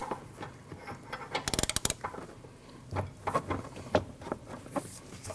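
A ratchet wrench on an O2 sensor socket clicks in a rapid burst while loosening the upstream oxygen sensor on a 2013-2019 Ford Escape 1.5L, followed by scattered metallic taps and scraping, with no talk.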